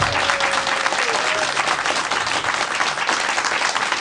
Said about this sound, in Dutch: jammer applaus nog even